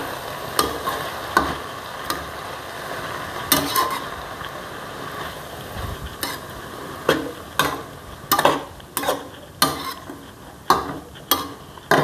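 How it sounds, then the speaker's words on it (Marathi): Spring onion greens stirred in a hot pan over medium heat: a steady faint sizzle broken by repeated sharp scraping clicks of the spoon against the pan, coming irregularly about once a second. "कांदापात व्यवस्थित हलवून घेतली."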